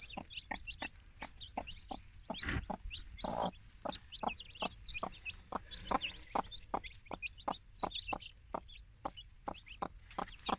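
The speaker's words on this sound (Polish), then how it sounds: "No jak widzicie jestem już u moich najnowszych kurczaków." A flock of chickens clucks steadily in a breeding coop, giving a dense run of short, sharp, regular clucks at moderate distance with no talking.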